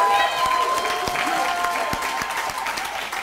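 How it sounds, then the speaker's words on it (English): Audience applause for a presenter at a social innovation lab showcase, steady dense clapping from a crowd that holds at an even level throughout, with faint tonal ringing in the background. "a round of applause for Nikki with the Puzzling Disorder Project"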